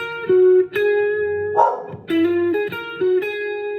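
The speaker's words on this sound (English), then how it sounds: "Excuse my dog." A dog barks several times close by over sustained electric guitar notes during a blues guitar lesson, the bark bursting out loudly once in the middle.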